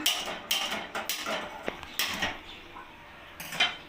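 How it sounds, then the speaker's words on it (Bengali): A tawa griddle is set down on a gas stove in a home kitchen while carrot parathas are being made, giving several close metallic clanks and scrapes spaced across a few seconds, with no talking. "আমি চাটুটা বসিয়ে দিচ্ছি"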